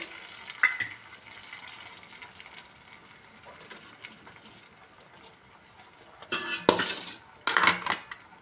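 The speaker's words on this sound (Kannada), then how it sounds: "ಈ ರಸ ಬಿಡ್ತೀನಿ ಇದಕ್ಕೆ ಕಾಳುಗಳನ್ನು ಹಾಕಿ ಹಾಕಿಬಿಡ್ತೀನಿ" Tamarind juice poured into a pan and sprouted beans tipped in, with faint sizzling, a few scrapes and clinks of utensils, and a louder clatter and splash near the end.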